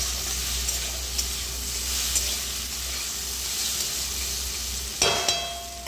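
Pumpkin pieces cooking slowly in a pan over low heat after a dry chili and five-spice tempering, a steady close sizzle and hiss with a few louder crackles near the end.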